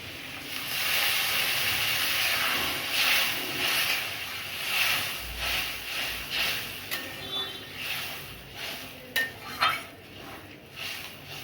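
A hot pan of Bengali fish curry with potatoes and ridge gourd hisses and steams as water goes in, with bursts of sizzle, then scattered clinks of a utensil against the pan.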